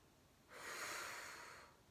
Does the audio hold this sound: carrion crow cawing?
no